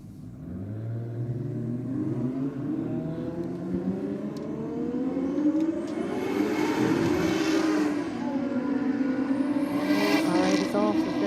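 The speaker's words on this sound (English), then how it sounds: "All of them coming out, getting ready to do their burnouts in the burnout pit." Drag racing cars at Sydney Dragway revving in the burnout pit before burnouts, engines rising and falling in pitch, growing louder and higher toward the end in a sustained, roaring wash of sound.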